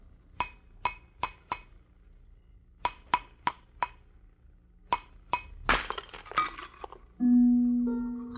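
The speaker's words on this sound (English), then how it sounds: "The glass you just heard broken was not ordinary glass." A glass vessel shattering as a radio drama sound effect: a run of sharp, ringing glass clinks in groups, then a loud crash of breaking glass with scattering shards, followed by a low sustained tone.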